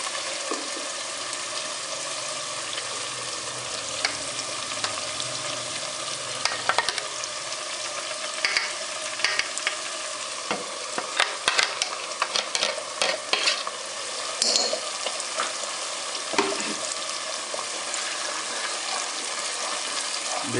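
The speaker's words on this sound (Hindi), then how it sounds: "प्याज अभी हल्का ब्राउन हो चुके हैं, तो मैं अभी इसमें ऐड डाल दूँगा पेस्ट जो बाकी बनाई हुई है।" Onion and spice paste for a fish curry frying in a pan, with a steady sizzle and repeated scraping stirs through the middle, plus a brief trickle of water, no talking.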